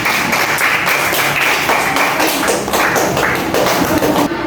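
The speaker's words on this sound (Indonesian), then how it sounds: "berikan aplaus untuk kelompok kinestetik" A classroom of students claps in applause for a student group after their presentation, a dense, steady patter of many hands lasting several seconds, loud and close with no talk over it.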